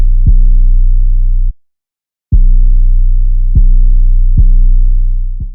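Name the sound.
808 bass pattern with hard punch, FL Studio beat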